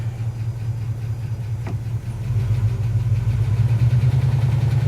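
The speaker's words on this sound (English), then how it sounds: "We've been sitting here idling" A 1971 Ford F250 pickup's engine idling steadily, after a cooling system rebuild with new radiator and shroud, a loud, low rumbling drone that grows slightly stronger midway and continues alone without voices.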